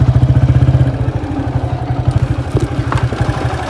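A motorcycle engine running close by with a rapid, regular low pulsing throb that stays steady, with a few brief clatters near the end.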